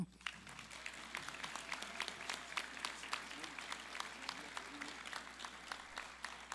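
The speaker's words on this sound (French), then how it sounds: "Je vous invite à les applaudir maintenant." A university graduation crowd applauds a professor in a large hall, sustained even clapping from many hands, distant and steady throughout.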